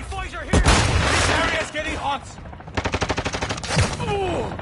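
Gunfire in the Modern Warfare video game, including a sniper rifle shot, with sharp close shots followed by a rapid automatic burst while a person talks.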